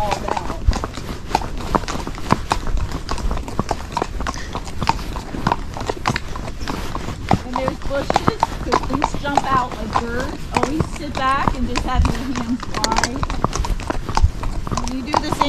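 A gaited horse's hooves clip-clop steadily along a road in a brisk, even rhythm, close and clear, while a person talks over the footfalls throughout.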